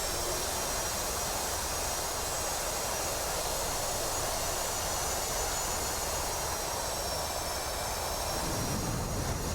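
F/A-18C jet engines spooling up on a carrier deck in the DCS flight simulator, a steady, loud, broad roar that holds evenly throughout with a slight shift near the end, no voices.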